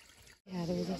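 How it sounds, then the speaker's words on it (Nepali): Water runs from a village tap, starting as a quiet trickle, briefly cutting out, then returning as a fuller, steady close stream. "धारामा चाहिँ यसरी पानी आउँछ।"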